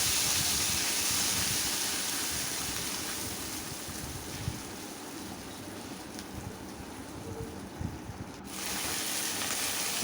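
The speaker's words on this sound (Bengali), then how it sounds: "এখন ভালো করে তেলের সঙ্গে ভেজে নেব।" Ginger, cumin and green chilli paste fries in hot oil with a steady, broad sizzling hiss throughout. Near the end the hiss dips briefly, then resumes.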